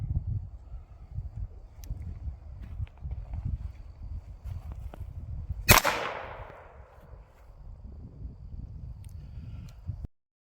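One sharp pistol crack from a Ruger Mark III firing Aguila ammunition rings out midway, ringing briefly away over a low background of rumbling handling noise, with nothing else standing out.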